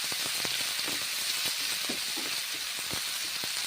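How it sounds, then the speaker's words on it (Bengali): A steady, close sizzle of ground spice paste frying in a pan for a pumpkin curry, dense and continuous, with a few soft stirring scrapes and no talking. "মশলা কষে নিচ্ছি"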